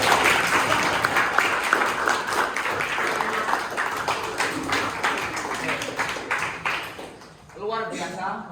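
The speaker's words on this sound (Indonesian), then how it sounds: "Tepuk tangan dong." A classroom audience applauds after a persuasive speech. The clapping is steady and dense, with a voice speaking over it, and it fades out near the end before talk continues alone.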